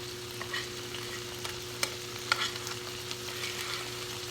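Tofu sizzles and fries in a pan while a utensil stirs it, giving steady close frying hiss with a few sharp scraping clicks, and no one speaks.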